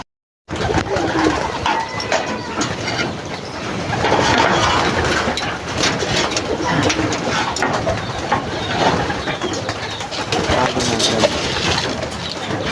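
Hungry racing pigeons cooing and fluttering in a loft before a long-distance basketing race, a steady dense flock murmur with bird calls and faint mechanical hum throughout.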